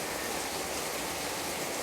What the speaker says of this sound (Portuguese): E a chuva também é muito linda, muito bonita